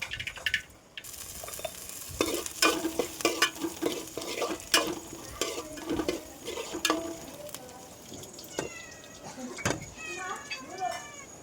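Cabbage and beetroot stir-fry being stirred in a pan, with repeated scraping strokes over a soft sizzle, fairly close; a cat meows a few times near the end.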